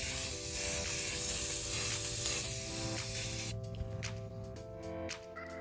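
A spray can hisses in a long continuous burst, then gives several short spurts, with faint music playing in the background.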